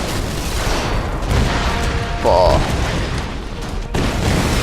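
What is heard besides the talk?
explosions in the video game Tomb Raider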